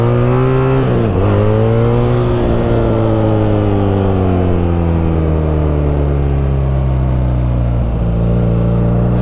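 A BMW R nineT Scrambler motorcycle engine revs loud and close, rising and falling in pitch over several throttle swells as the rider tries to lift the front wheel.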